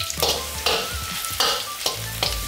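Garlic cloves and ginger slices stir-fried in a little leftover oil in a wok, after fried hairtail fish was removed, give a steady close sizzle broken by several loud scraping spatula strokes.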